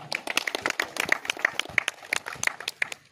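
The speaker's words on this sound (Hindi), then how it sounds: "आप लोग एक बार ताली बजा दीजिए उसके नाम।" Audience clapping at a gathering during a legislator's visit to a mining company site: a modest crowd of distinct, uneven hand claps, fairly close and moderately loud, continuing throughout.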